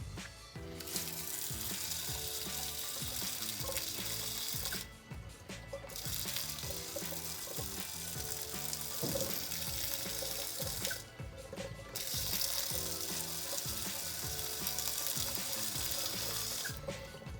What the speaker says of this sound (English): I'm now going to flush water through my faucet for about 10-second intervals